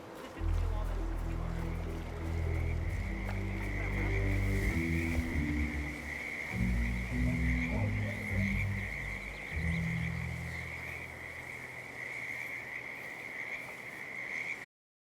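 Frogs croak in the jungle of Santa Fortuna in Hitman, a steady layered chorus under a constant insect-like trill, with someone speaking over it for much of the time.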